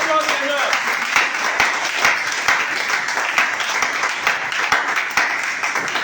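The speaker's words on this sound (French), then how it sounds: "On acclame puissamment le Seigneur." A church congregation applauds the Lord with sustained, loud clapping from many hands, steady throughout, with voices mixed into the crowd noise.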